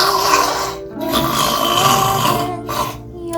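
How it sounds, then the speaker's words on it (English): Loud, rough snoring close by, a couple of long rasping breaths with short quiet gaps between them. "I'm a loud snore."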